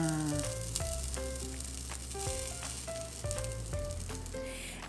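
Almond flour pancakes sizzle and fry in a pan, a steady close crackle that runs the whole time under bright musical tones from a backing track.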